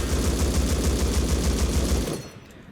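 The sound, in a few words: M249 machine gun firing in the video game Rust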